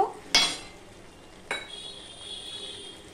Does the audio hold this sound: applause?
no